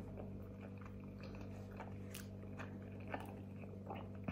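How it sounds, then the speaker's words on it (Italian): Someone chewing and biting into pasta with a minced meat ragù, soft crunchy bites and mouth sounds recurring irregularly and close up over a steady low background hum. "Assaggiamo questa pasta, questo ragù con la carne macinata."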